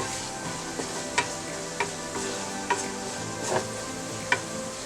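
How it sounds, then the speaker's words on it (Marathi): Spices stirred and frying in a pan for an egg masala fry, a steady soft sizzle under repeated spoon scrapes and taps against the pan at an irregular rhythm, close and moderately quiet with no talking. "आता बाकीचे सर्व मसाले घालूया। एकदा व्यवस्थित परतूया।"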